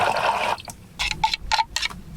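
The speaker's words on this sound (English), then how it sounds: "Fill it up with water." Water pours into a bottle in a short, close burst of gurgling and splashing, followed by a few quick separate sloshes or taps.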